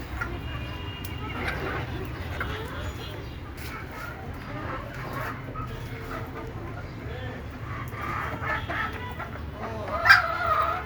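Native desi hens cluck softly and intermittently in the background during the rainy season, with one louder squawk near the end, all under a low steady hum of ambient noise.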